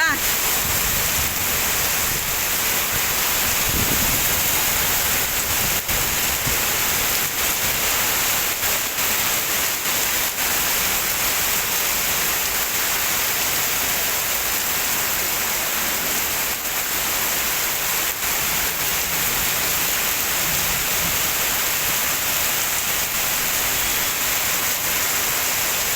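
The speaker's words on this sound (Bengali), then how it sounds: "কি যে বৃষ্টি" Heavy rain falls in Uttara, Dhaka, a steady broadband hiss that stays loud and even for the whole stretch, with no talk over it.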